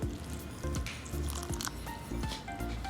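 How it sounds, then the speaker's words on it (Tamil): Water is poured in small amounts into flour for naan dough, giving soft wet drips and squishy mixing sounds, close and quiet, with no talking. "சேர்த்துட்டு இப்போ இதில் கொஞ்சமாக தண்ணி சேர்த்துக்குவோம்."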